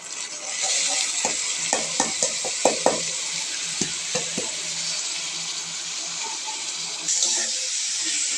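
Vegetables and green chilies fry in oil for noodles, a steady sizzle broken by a series of sharp spatula knocks and scrapes against the pan, with a faint voice now and then.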